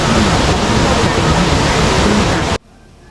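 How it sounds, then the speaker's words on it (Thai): Tat Kuang Si, a limestone waterfall with blue and emerald-green water, roars loud and close as a dense, steady rush of falling water that cuts off abruptly near the end, leaving faint background. "น้ำตกตาดกวางสีแห่งนี้จะเป็นน้ำตกที่มีสีฟ้า และสีเขียวมรกตสวยงาม เนื่องจากว่าเป็นน้ำตก หินปูนนั่นเองค่ะ"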